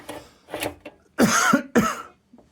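A few sharp coughs close to the microphone, two soft ones followed by two louder, harsher bursts with short pauses between them.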